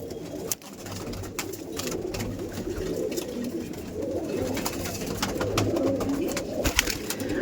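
A male Fulshira pigeon coos steadily in a pigeon loft, low rolling calls continuing throughout under a constant background hum.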